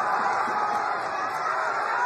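A boxing crowd in Galveston, Texas roars in a steady, dense wall of cheering and shouting during a fight, loud and sustained throughout without a break.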